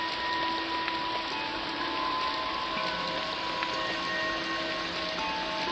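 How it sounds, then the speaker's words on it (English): Steady rainfall in a video game hisses evenly throughout, a constant wash of drops with a faint tonal hum behind it and no voices. "For goodness sakes, it's raining!"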